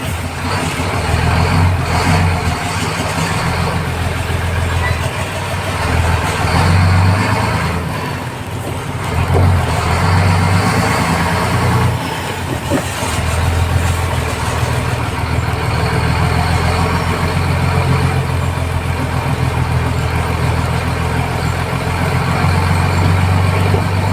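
Diesel vehicles idle in a long traffic queue, a loud, continuous low engine rumble with slight rises and falls as nearby trucks and cars rev.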